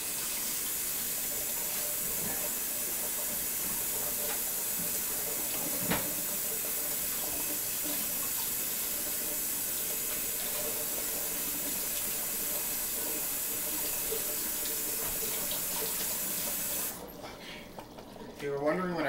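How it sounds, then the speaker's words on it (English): Tap water runs into a sink while a ladle is washed, a steady, loud rushing hiss that carries on without a break for about seventeen seconds before cutting off abruptly. "I was washing my ladle"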